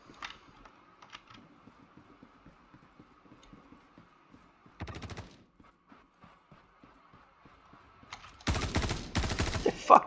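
Gunfire in the Star Citizen video game: soft clicks and scattered shots, a short burst near the middle, then louder rapid bursts toward the end, over a faint steady hum.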